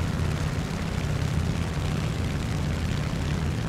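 Propeller fighter plane engine in the War Thunder combat flight game, a steady loud droning roar with a low throbbing hum that holds constant throughout, no talk over it.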